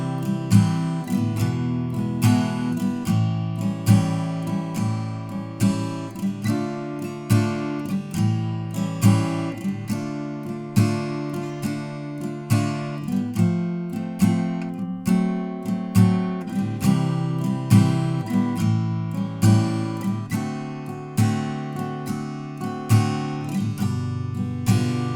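Acoustic guitar strumming the verse of a song in a simplified arrangement, steady rhythmic chords with a fretted bass note, played alone at a moderate level with no talking.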